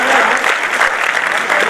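Brief, lively applause from the crowd at an All India Kavi Sammelan poetry gathering, many hands clapping together loudly and close for under two seconds.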